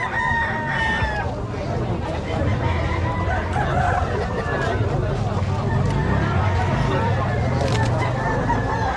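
Roosters crow repeatedly at a busy chicken market in Lemery, Batangas, their long calls rising over a constant hubbub of crowd noise and chatter.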